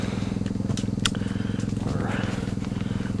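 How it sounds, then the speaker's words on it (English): Rapid, even pulsing rumble of a diesel heater running inside a small hut, steady and close, with a few sharp clicks and crackles layered on top. "There's our toasty little heater. Runs off a diesel."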